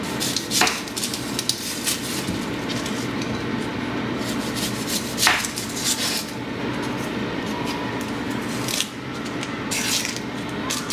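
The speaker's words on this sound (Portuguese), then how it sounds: "Vou começar aqui cortando uma cebola e alho" A knife chops onion and garlic on a board in a home kitchen, with steady, soft rhythmic cutting strokes and a few sharper knocks, fairly quiet and close, with no talk.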